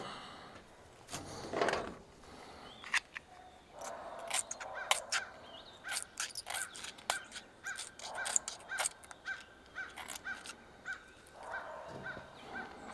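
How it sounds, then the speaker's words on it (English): Crows caw repeatedly outdoors in short, sharp calls scattered throughout, some nearer and louder than others, against a quiet background. "Crows are talking."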